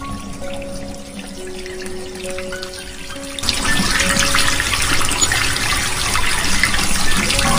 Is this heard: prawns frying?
no